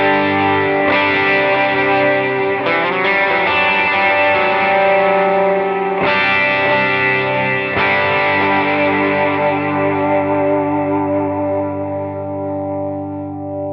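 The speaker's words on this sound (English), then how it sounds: "engage the Minotaur, the Clon Centaur, its transparent overdrive on top of everything else I've got there" Electric guitar run through a Line 6 Helix with a Klon Centaur-style transparent overdrive stacked on other effects, ringing sustained chords with chorus and echo, loud and continuous, with fresh strums near six and eight seconds.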